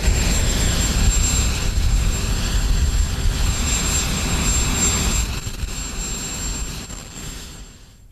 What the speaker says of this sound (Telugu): ఇక చేసేది లేక ట్రంప్ మరో అధికారికి ఆ పని అప్పగించి హెలికాప్టర్ ఎక్కేశారు.